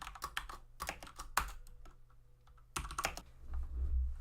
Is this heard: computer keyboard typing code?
yes